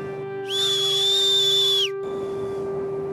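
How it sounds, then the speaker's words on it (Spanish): A single long whistle blast on the shore warns a blind surfer of danger, a steady high pitched tone held for about a second and a half against a faint background hum. "Y luego, cuando hay un peligro en la orilla, sería un silbido largo."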